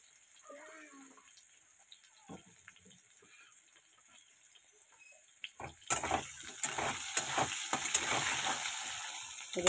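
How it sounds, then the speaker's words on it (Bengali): Potatoes frying in a pan until reddish, quiet at first with faint background voices and a few clinks, then a sudden loud sizzle as they hit the oil, crackling steadily with bursts of popping. "আলুগুলো একটু লাল লাল করে ভেজে নেব।"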